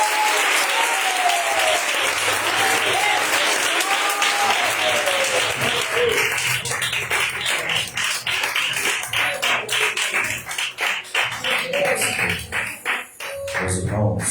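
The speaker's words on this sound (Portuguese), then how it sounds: "Aplauda o Senhor pela primeira vez." A church congregation at a Portuguese-language worship service applauds: loud, dense clapping that thins into scattered, separate claps toward the end.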